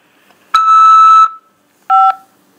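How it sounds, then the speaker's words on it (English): On a prison-facility collect call, a loud electronic tone sounds for under a second as a phone keypad button is pressed to accept. A shorter, lower second tone follows after a brief silence, with no speech. "press 5 to accept this call."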